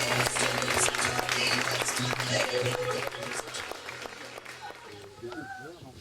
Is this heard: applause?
yes